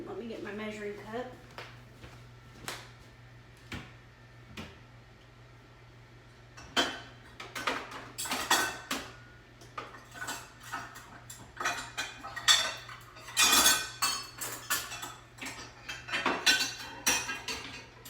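Measuring cups and dishes clatter and clink in a kitchen cabinet, a burst of sharp metallic and ceramic knocks that grows busier and louder partway through, over a low steady hum.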